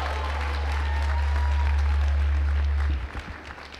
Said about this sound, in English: Another round of applause for Professor Stein and all the service that